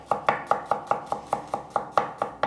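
A knife slicing a King Solo single-clove garlic bulb on a cutting board: a steady series of about thirteen crisp, evenly spaced chops, close and clear with no talking.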